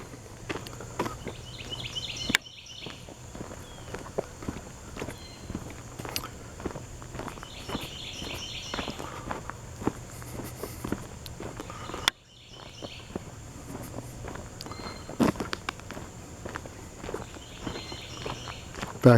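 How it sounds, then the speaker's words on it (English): Footsteps crunch steadily along a driveway of loose asphalt millings that gives underfoot like gravel, each step close and distinct for the whole stretch with faint insect or bird sounds behind. "hear my footsteps. It's almost like a gravel driveway instead of a asphalt driveway."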